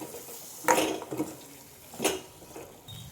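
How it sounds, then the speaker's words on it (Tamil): Metal utensil scrapes and clatters against a pan while vegetables for veg kurma are sautéed, two brief bursts with faint sizzling in between; no voices. "இந்த காயவும் இதோட சேர்த்து கொஞ்சம் நேரம் வதக்கி விட்ருவோம்"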